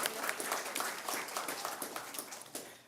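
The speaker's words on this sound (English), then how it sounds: "We're going to give a round of applause" A room of attendees at a school board meeting applauds, quick overlapping claps forming a steady, moderately loud patter that tapers a little toward the end.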